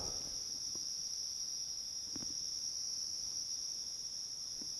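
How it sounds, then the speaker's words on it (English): A constant high-pitched drone of crickets and cicadas fills the night air around a nursing home, steady and unbroken, with a few faint clicks underneath. "sorry if you can hear the cicadas and the cricket"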